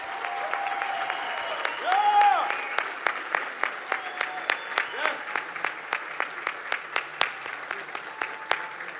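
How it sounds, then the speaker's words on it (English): Applause at a bank product launch event comes as sparse, distinct claps from a smaller group, sharp individual hand strikes in an irregular rhythm, with a tonal voice or music in the background early on. "So I wish from all of you big applause for this beautiful country"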